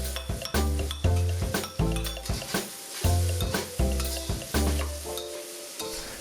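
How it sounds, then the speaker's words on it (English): Long beans stir fried in a hot wok with Shaoxing wine sizzle loudly as a spatula scrapes and clanks in a steady rhythm, the hiss surging with each toss. "continue to stir fry until it's mostly evaporated"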